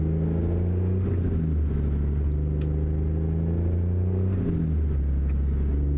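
In American Truck Simulator, a 389 rig lugs along at low revs under load after the clutch comes out, giving a heavy, constant rumble with slight pitch shifts and a faint hiss on top, near and steady.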